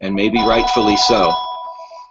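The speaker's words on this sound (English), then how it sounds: "And I apologize for the phone. I've turned my ringer down as much as I can." A telephone rings with a steady electronic tone beneath a man's close speech. The ring lingers and fades briefly after he stops talking.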